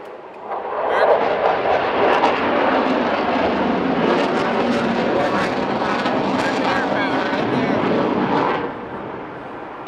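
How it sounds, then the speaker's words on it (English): F-15 fighter jet passing overhead at the Farnborough International Airshow, a loud sustained roar that swells and holds for several seconds before fading, with people talking under it. "we see the F-15 going right over top of the Boeing chalet right here"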